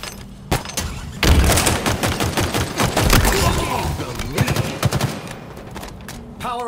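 Rapid gunfire from a Slayer match in the video game Halo Infinite rattles in dense bursts over busy game effects, with scattered sharp shots and a brief announcer-style voice in the mix.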